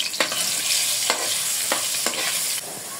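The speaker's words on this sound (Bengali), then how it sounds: "কয়েকটা আলু ভাজে নেব" Potato pieces fry in hot oil in a kadai, a loud, steady sizzle broken by several scraping stirs of the spoon at uneven intervals.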